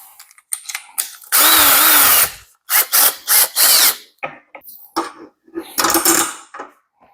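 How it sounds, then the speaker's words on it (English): A power drill bores holes through the lid of a small cart with a step bit, in several short loud bursts of whirring and grinding separated by brief pauses. "go ahead and drill some holes in the lid of this little cart"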